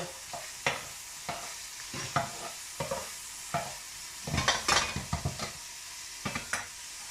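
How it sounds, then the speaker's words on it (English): Onions browning in garlic and butter in a home kitchen pan, with repeated scraping stirs at an irregular pace against a soft sizzle, including a busier burst of strokes midway, with no talking. "Looking to brown those onions off nicely in the garlic and butter."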